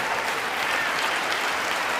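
Dense, steady applause from a large audience at the State of the Union address, sustained clapping filling the hall without pause.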